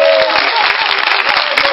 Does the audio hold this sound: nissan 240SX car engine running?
no